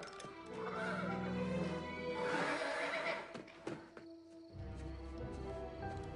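Horses neigh and whinny loudly amid hoof clip-clop and a dense, tense film soundscape with no voices.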